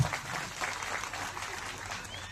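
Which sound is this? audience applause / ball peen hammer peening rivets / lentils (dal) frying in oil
audience applause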